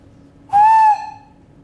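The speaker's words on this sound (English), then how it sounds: "I will whistle for you." A single steady whistled tone from a person in a physics lecture hall, rising sharply, holding for about half a second, then cutting off cleanly; loud and close, alone against quiet room noise.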